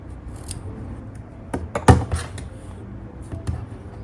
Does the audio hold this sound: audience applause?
no